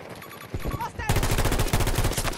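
A VHX rifle in Battlefield 2042 fires a rapid, loud volley of close shots that starts suddenly after a quieter opening and keeps a steady rattling rhythm until the end.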